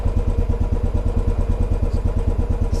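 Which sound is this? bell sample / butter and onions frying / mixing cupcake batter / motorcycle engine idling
motorcycle engine idling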